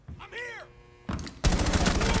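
Gunfire in the Rainbow Six Siege video game erupts near the end as a loud, dense burst after a sharper blast, preceded by quieter game sounds and a brief voice.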